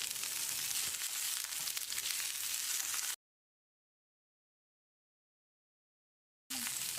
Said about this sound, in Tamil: 4 வெண்டைக்காயை 1 இன்ச் நீளத்துக்கு நறுக்கி வச்சுருக்கேன். இதை போட்டு 1 நிமிஷம் வதக்கிடலாம்.